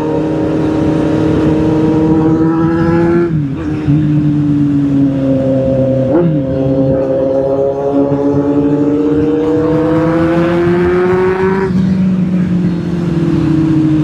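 A car being driven, its engine humming steadily from inside the cabin, rising and falling as gears shift and the car speeds up, loud and constant with no talk.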